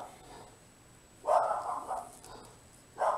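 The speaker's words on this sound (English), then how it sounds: "I think she's barking at the wind." A dog barks in two short bursts, a longer yapping outburst followed by a brief second one, moderately close against quiet background hiss.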